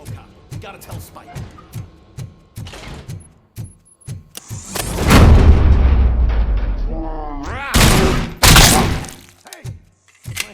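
Gunfire and explosions in the video game RoboCop: Rogue City: a string of sharp, evenly spaced shots gives way to a loud, booming blast with a long rumbling tail, then another heavy bang and scattered hits close by.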